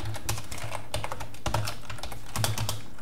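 Code being typed on a computer keyboard, with steady rapid key clicks and occasional heavier strokes running continuously through the clip, close and clear with no talk.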